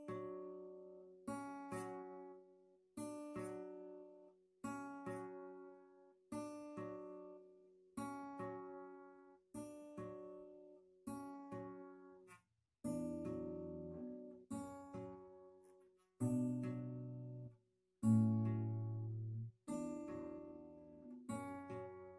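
Acoustic guitar playing the intro of a song, a series of strummed chords repeating in a steady pattern, close and clear, with fuller, heavier strums in the second half and no talk.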